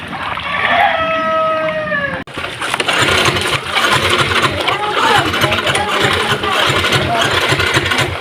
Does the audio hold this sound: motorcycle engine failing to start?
yes